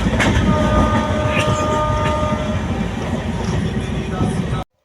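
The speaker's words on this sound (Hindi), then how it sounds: "जैसे ट्रेन में बैठनी वैसे ट्रेन खुल गई" A train pulls away from a station with steady, loud rumble and rhythmic carriage clatter heard from inside the coach, plus faint squeals from the rails.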